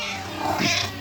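A cat gives a single drawn-out meow, close and fairly loud, in a garage workshop during work on a 1965 vehicle. No one speaks over it.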